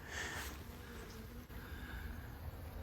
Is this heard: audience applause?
no